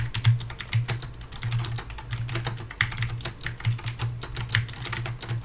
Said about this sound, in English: Wait, I can type on my keyboard now.